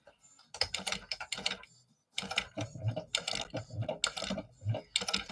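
A sewing machine top stitching a canvas bag runs in quick mechanical bursts, pauses briefly, then resumes with a steady, close-up rattling rhythm.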